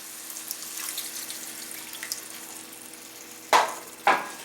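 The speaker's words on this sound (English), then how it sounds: "drop in a couple tablespoons of butter and a cup of water" Butter and a cup of water go into a hot pan while cooking mofongo stuffing, a soft sizzle and running-water hiss under quiet kitchen noise, then two sharp splashing bursts close together near the end.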